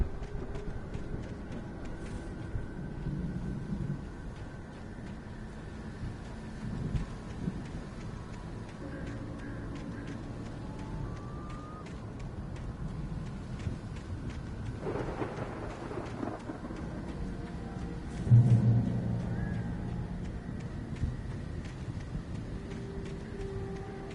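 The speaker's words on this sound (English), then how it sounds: "The storm raged on" Steady rain and rolling thunder from a storm in Alan Wake Remastered fill the scene, with a heavier, nearer crack of thunder swelling late before the downpour settles back.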